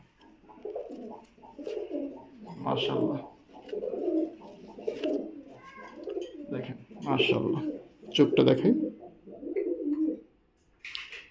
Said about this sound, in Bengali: এই হচ্ছে কবুতর